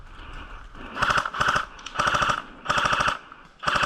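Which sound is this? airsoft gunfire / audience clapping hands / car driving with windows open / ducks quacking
airsoft gunfire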